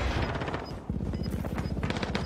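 Gunfire in Call of Duty Warzone on Rebirth Island comes as rapid automatic bursts, loud and close, with a short gap before more bursts resume, and no voices.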